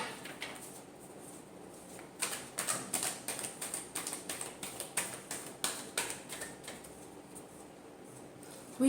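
Tarot cards being shuffled in a soft, rapid run of riffling taps for several seconds, close but quiet, with no talking.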